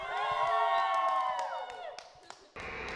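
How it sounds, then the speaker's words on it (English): A team of young voices shouts a loud group cheer together that trails off, followed by a short burst of applause and crowd noise. "Now, take us out with a cheer."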